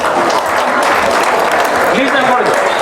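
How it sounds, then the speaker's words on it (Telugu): An audience at a silver jubilee event claps in sustained, dense applause, with voices mixed in. "చప్పట్లు కొట్టరా ప్లీజ్."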